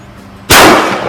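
A single sharp, loud pistol shot rings out from a CZ P-10S fired at steel plates on an outdoor range, a sudden crack followed by a brief decaying ring.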